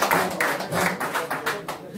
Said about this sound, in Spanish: el aplauso para ellos